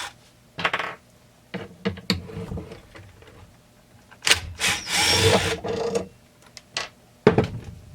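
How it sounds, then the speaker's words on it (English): Two screws being removed from the bottom of a Husqvarna 372XP XTorq chainsaw during dismantling, with scraping, metallic clicks and a few short bursts of screwdriver or tool noise, close and fairly loud, with no speech. "Let's take the two screws from the bottom."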